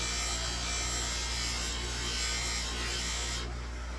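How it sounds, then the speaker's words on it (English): A tobacco pipe pressed against a spinning polishing buffer gives a steady, close, loud whirring rasp that holds evenly for the whole stretch, with no talking. "it's polishing it up nice"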